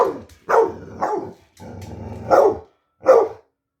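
A dog barks repeatedly at a man while baring its teeth, giving five or six close, loud barks and growly yips in irregular bursts with short pauses between them.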